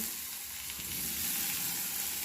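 Loud, dense sizzling of food frying in a pan for an egg piyaji dish, heard close and steady over a short stretch with a faint low rumble and no talk.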